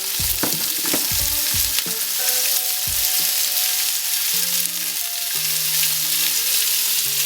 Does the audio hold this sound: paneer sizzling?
yes